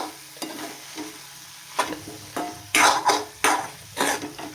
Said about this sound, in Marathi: सो आता एकदा मिक्स करून घेते सगळं व्यवस्थित